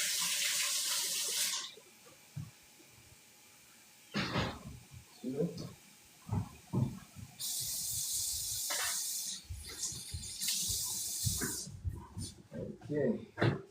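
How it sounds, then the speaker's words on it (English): Tap water runs into a sink while rice is washed, a broad hiss that rises and drops in bursts with pauses, interrupted by clattering handling noises and brief speech. "Get this rice washed really quickly."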